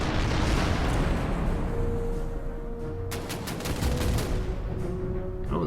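Naval guns fire in the wargame Order of Battle, a loud roll of overlapping blasts and rumbling bursts. A cluster of sharp cracks lands partway through as the barrage goes on.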